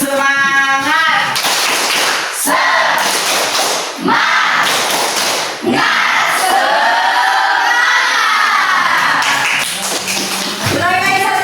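A classroom group performs a rhythmic spirit clap, with patterned bursts of clapping and thumping from many participants, loud and close, mixed with voices talking and calling out.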